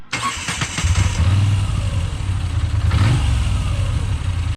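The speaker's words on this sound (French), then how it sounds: "Le moteur qui est modernisé par rapport au moteur culbuté qu'on avait avant sur les Guzzi" A Moto Guzzi V100 motorcycle engine, a modernized design replacing the older pushrod twin, starts and runs with a steady mid-pitched throb, revving briefly around three seconds before settling, close and loud.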